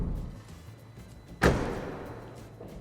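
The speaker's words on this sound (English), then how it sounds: "the company says that it has improved the door closing sound" A 2019 Proton Saga facelift's car door shuts once with a single solid, fairly loud thud in the middle of a quiet interior, followed by a short muffled decay.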